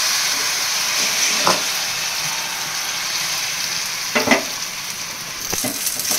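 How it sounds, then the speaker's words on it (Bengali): Flour batter pancakes fry in shallow oil with a loud, continuous close sizzle, interrupted by a few brief scraping bursts from a spatula. "তো চলো এইগুলো 3-4টে ভেজে নিই"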